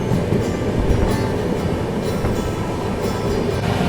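Kanchankanya Express running just past Siliguri Junction through tea gardens, a steady, close, continuous rolling rumble with faint wheel clatter and no talk.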